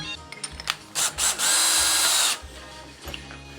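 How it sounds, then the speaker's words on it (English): Power drill with a step bit boring a pilot hole in metal on a Cummins-powered Fargo truck, a few short trigger blips then a sustained high whine for about a second, close and loud. "Now I'm gonna take this step bit perfectly in here."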